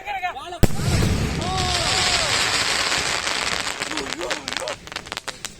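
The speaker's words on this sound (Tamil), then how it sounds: "மேலே போய் டம்முன்னு எப்படி வெடிச்சது பார்த்துருப்பீங்க" A firecracker bursts with a sudden loud bang, followed by sustained crackling, whistling and hissing as fancy fireworks go off nearby, with squealing tones rising and falling and smaller pops trailing away.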